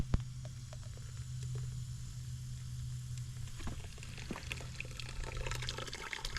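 A pump pushes red-dyed diesel fuel into a waste oil tank, giving a steady low hum with liquid pouring and gurgling over it, plus a few short clicks and knocks, fairly quiet and with no talk.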